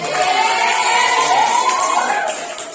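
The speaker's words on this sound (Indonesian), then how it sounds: "Tepuk tangan." Children in a classroom lesson clap and cheer loudly together, a dense burst of crowd noise with excited voices rising over the clapping before it tapers off.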